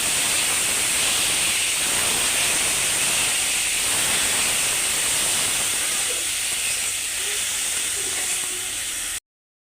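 Dhenki greens fry in a pan with chilli and onion, giving a loud, steady sizzling hiss up close that holds level throughout before cutting off abruptly, with no talking.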